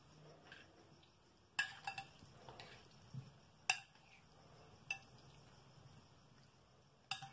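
A spoon scrapes and clinks against a bowl while tuna and avocado salad is mixed, giving a few sharp knocks spaced irregularly over quiet, close-up stirring.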